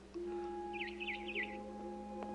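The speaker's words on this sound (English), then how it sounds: "Then I heard chirping outside my window." In the video game What Remains of Edith Finch, short, bright barn swallow chirps repeat three or four times in a quick trill over a steady electronic hum and background tones.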